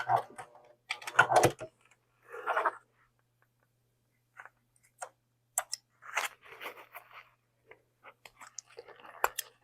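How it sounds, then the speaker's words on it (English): Scissors snipping loose threads on a Cadence mini pouch, a series of short, close, crisp clicks in scattered clusters with quiet gaps, alongside some soft handling noise. "just trimming those extra threads"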